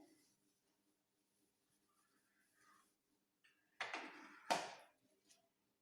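Marker or chalk writing on a board during a Hindi grammar lesson on tenses, heard as two short, brisk scraping strokes close by after a quiet stretch, with no talking.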